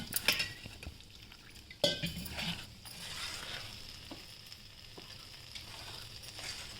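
A spoon stirs a potato batter mixed with water for a homemade aloo pizza, with a few sharp clinks against the bowl early on, then quieter, steady wet scraping and swishing.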